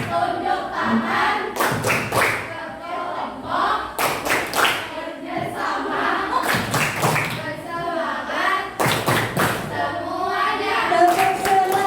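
A biology class chants its motto together in unison, with rhythmic bursts of clapping and loud group shouting repeating in regular cycles.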